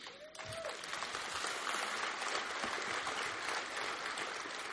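An audience at a women's conference for AA speakers in Louisville, Kentucky breaks into loud, dense applause that swells quickly and holds steady, filling the hall with sustained clapping.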